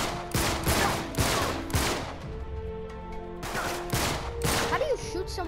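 Sharp, loud gunshots in Uncharted: The Nathan Drake Collection come in separate bursts of several quick reports, with a lull in the middle and more shots near the end.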